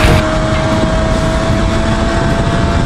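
A Kawasaki 500SS Mach III motorcycle, prone to fouling its spark plugs, runs with a loud, close, continuous engine roar that holds steady throughout.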